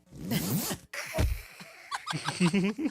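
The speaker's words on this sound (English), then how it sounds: "It's the zipper that gets me." A clothing zipper is pulled in a couple of quick rasping strokes, followed by a thud and then a person talking close by.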